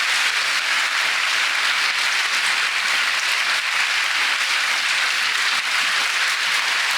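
Loud, dense clapping from a church congregation, many hands beating together in a steady, unbroken roar that holds at the same level throughout.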